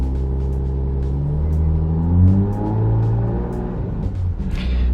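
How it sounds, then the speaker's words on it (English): A Honda Pilot engine idles and then revs up at close range, its steady low drone rising and falling in pitch through a few gentle swells, with faint clicks on top and nobody speaking. "rev up the engine"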